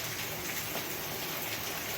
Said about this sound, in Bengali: বাইরে ঝমঝমে বৃষ্টির আওয়াজ